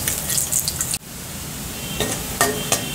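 Steady crackling sizzle of chopped ginger and garlic frying in hot oil, with a soft clink of a utensil stirring, close and continuous.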